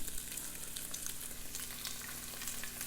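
Bacon fries in oil in a pan, a dense, steady crackling sizzle with fine pops throughout, close and moderately quiet, no voices.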